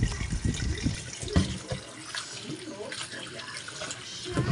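Water runs steadily from a tap while water spinach (kangkong) is washed, a close splashing rush with small clatters, and a voice talks over it at times.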